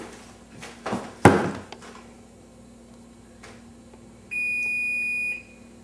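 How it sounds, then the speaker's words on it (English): An oven timer in a home kitchen gives a single sustained electronic beep lasting about a second, clear and fairly loud, after some clattering and a sharp knock during cookie baking. "Sorry, that was our timer for the oven."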